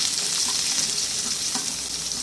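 Cumin seeds and onions frying in hot oil for an egg paneer masala, a loud continuous close sizzle with faint stirring clicks and no voices.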